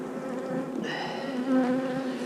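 Honeybees buzz in a steady, close drone as they fly around a hive being installed, with the hum swelling and thinning as insects pass near.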